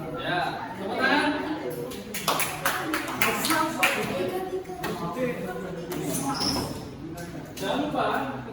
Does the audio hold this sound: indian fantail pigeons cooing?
no